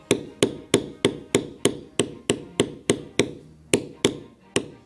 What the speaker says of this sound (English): And we will bevel the inside border as well.